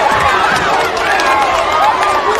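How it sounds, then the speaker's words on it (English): Basketball crowd in a packed gym on its feet, a loud continuous roar of cheering and shouting voices that swells and churns throughout, close and enveloping. "Crowd is on their feet."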